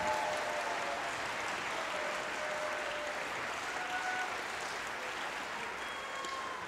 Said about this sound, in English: One more big round of applause for the symphonic band